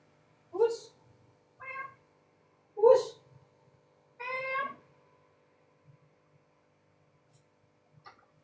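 A black house cat meows about four times, clear and close, with pauses between calls and a faint fifth sound near the end, otherwise quiet.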